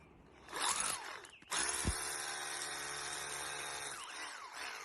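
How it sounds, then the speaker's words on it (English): A power drill bores into a wall at marked points while a house number is being fitted, a steady high whine with a brief spin-up then sustained drilling for several seconds, close and loud with no talking. "Step 2, drill on your marked points."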